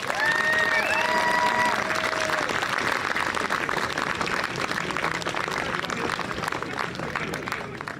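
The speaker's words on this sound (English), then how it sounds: "give them a huge round of applause" Spectators at the Britain's Strongest Man 2008 competition give the strongmen a long round of applause and crowd noise, steady and fairly distant, with a few brief whistle-like tones at the start.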